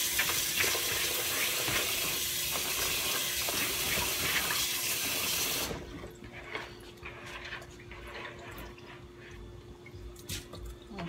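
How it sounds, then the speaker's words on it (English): Tap water runs steadily into a kitchen bowl for several seconds, a loud splashing rush that cuts off abruptly, followed by quieter drips and small handling clatters. "I'm gonna put a little water in."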